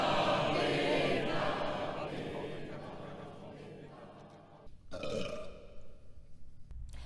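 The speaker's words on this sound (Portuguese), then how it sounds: "Um arroto no meio da música." A long, loud burp rumbles through a song recording about Coca-Cola, fading slowly, followed by a short sharp hiss like a bottle or can opening.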